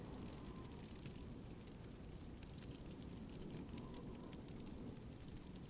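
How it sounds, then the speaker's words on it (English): A campfire in a virtual world crackles softly and steadily, a faint continuous hiss dotted with small pops and no voices. "Listen to the campfire."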